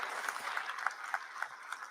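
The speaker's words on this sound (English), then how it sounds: "A big round of applause for this wonderful launch." Audience applause at a book launch during a youth celebration for Swami Vivekananda's birth anniversary in Hyderabad: scattered, fairly faint clapping from a hall crowd, steady and brief, with no voices over it.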